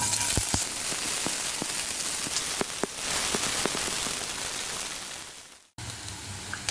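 Onion slices and a bay leaf frying in hot oil for a raw jackfruit dry fry, giving a steady dense sizzle with scattered pops and crackles, close by, before cutting off briefly near the end and resuming.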